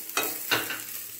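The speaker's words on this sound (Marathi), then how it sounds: "हे जे अद्रक आणि लसूण घेतले होते याला सुद्धा भाजून घेऊया" Ginger and garlic fry alongside onion in a pan, a low sizzle broken by two brief scraping stirs of a spatula.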